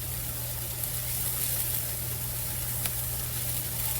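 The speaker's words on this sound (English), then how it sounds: "our onions have been sauteing for 5 minutes" Onions sauté in a pan with a soft, continuous sizzle under a low steady hum, close and fairly quiet with no talk.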